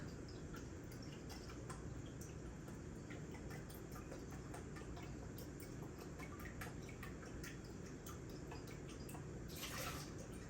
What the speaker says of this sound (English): I'm just going to go drain off the water and take the ice out